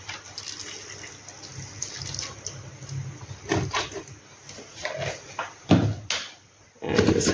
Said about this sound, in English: we're going to have to add just a little bit of water.